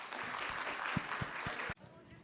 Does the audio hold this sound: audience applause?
yes